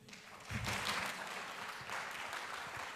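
An audience claps at a conference closing ceremony, a moderately loud burst that swells, dips briefly and rises again, heard from a slight distance in a hall.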